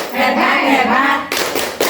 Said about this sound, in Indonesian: Ayo kita sama-sama tepuk hebat lagi lah ya